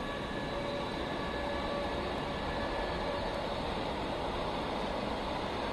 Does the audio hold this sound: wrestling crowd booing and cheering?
no